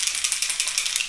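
A sunscreen spray bottle is shaken hard, producing a fast, even rattling of a mixing ball, close and loud, with no voices.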